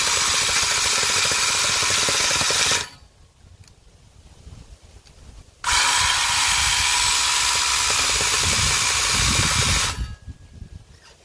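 A weak electric cutting saw, fitted with a chainsaw-style chain for a grinder setup, runs loud in two long bursts, each cutting off abruptly as it bogs down and stalls, with quieter rumbling gaps between.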